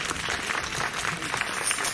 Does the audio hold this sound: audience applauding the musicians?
yes